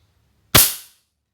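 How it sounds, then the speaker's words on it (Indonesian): An LPG gas regulator pressed onto a cylinder gives a single sharp burst of escaping gas, a close, loud pop-like hiss that fades within half a second. "Nanti akan keluar bunyi jos gitu, bunyi gas."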